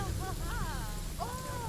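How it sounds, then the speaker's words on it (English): Rain falls steadily in the zoo-building game Planet Zoo, a constant broadband hiss that fills the whole clip, with a few brief tonal calls or voices rising over it. "Oh, it's raining."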